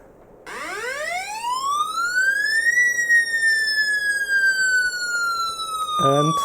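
An electromagnetic water treatment device emits a siren-like electronic signal, a loud pure tone that sweeps upward and then glides slowly down, with a brief burst of a different tone near the end.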